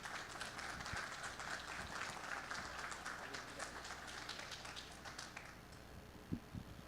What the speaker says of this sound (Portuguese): uma salva de palmas para Matheus Borba da Google Games